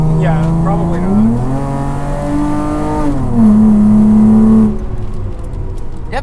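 A 400-horsepower Chrysler Crossfire track car engine revs loud and close, its pitch climbing, settling and climbing again through several gear changes, with a tonal whine and rumble that carry steadily throughout.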